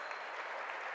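Fans on the Philo side of a high school basketball court, Coshocton Redskins against Philo Electrics, clap and cheer near halftime, a distant, even roar of crowd applause with no clear individual claps.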